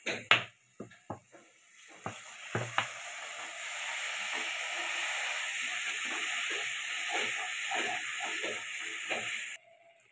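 Spice masala for a Bombay duck curry being stirred, then a loud steady hiss and sizzle rises as hot water hits the pan and holds for several seconds before cutting off sharply.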